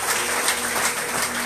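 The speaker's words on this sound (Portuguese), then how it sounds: "Aplauda ao Senhor Jesus." A church congregation claps steadily and fairly loudly, dense overlapping handclaps filling the whole moment.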